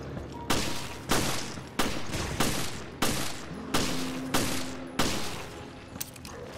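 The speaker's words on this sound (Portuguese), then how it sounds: "Nossa, o inimigo atira, cara." Enemy gunfire in Resident Evil Revelations: a string of about eight loud, sharp shots spaced roughly every half-second to second, each with a short decaying tail, with a low game hum underneath.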